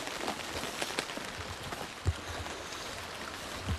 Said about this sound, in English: Got a nice handy tarp to keep us out of the rain.